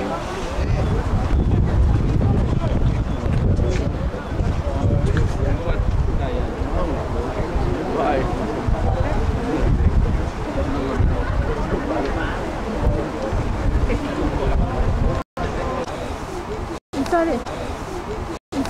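Strong wind buffets the microphone outdoors near mountains and swaying trees, a loud continuous roar with gusty surges, while people talk underneath and the sound cuts out briefly near the end.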